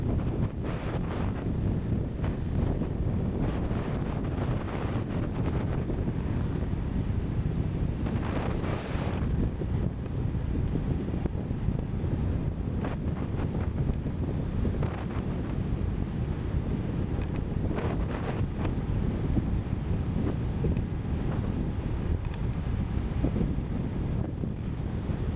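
Heavy, constant wind roar buffets the microphone while riding a River Indie electric scooter at top speed on the road, with no let-up for the whole stretch.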